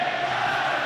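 A brief, steady roar from a rugby league crowd urging on Leeds Rhinos against Melbourne Storm at the 2008 World Club Challenge, dense and sustained, with no distinct voices standing out.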